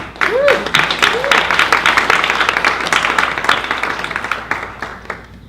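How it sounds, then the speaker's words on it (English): A seated audience at a LinkedIn networking talk breaks into dense, lively applause that gradually thins out, with a few voices calling over it. "Jimmy and Cindy, just give them a round of applause"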